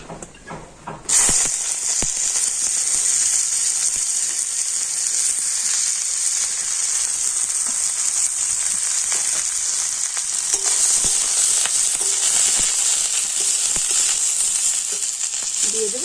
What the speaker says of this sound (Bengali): তো এই সমস্ত সবজিগুলো আমি প্রথমে কড়াইতে দিয়ে দিচ্ছি